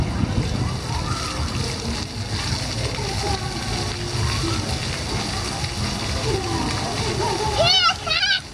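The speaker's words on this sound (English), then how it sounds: "Here it comes. Get ready, it's gonna squirt you in the booty." Pool water squirts and splashes around a child playing in a pool, with continuous sloshing under the voices of people talking.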